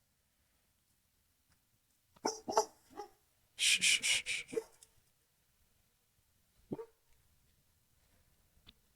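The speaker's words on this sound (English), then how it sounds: "that's our dog" A dog barks in a quick cluster of sharp, fairly close barks, followed later by a couple of single barks in an otherwise quiet room, and someone softly shushes.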